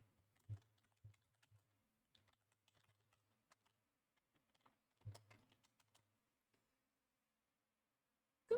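Sparse, faint keystrokes on a computer keyboard come in scattered taps and short bursts with long quiet gaps between them.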